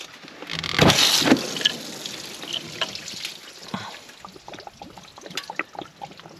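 Coolant draining from a removed heater hose on a 4th gen Ram, a faint uneven trickle and dribble with a short louder splash near the start, then scattered drips and small metallic taps.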